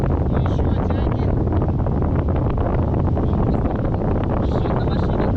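Strong wind buffets the microphone continuously during a tandem paraglider flight, a loud roaring rumble that never lets up.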